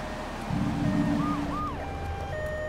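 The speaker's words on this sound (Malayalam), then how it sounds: "ആംബുലൻസ് ഒക്കെ വന്നിട്ടുണ്ടല്ലോ" An ambulance siren in GTA 3 wails in rising and falling sweeps over the hum of a car engine, with a low rumble of traffic underneath.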